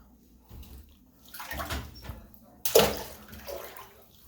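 Water runs into a hotel bathtub in uneven rushing bursts, with a louder surge of pouring toward the end.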